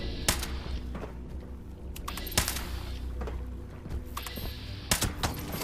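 A bloodied faster fire rate combat rifle fires in a video game with three sharp, separate shots spaced a couple of seconds apart, over a quiet background of soft clicks and ambience.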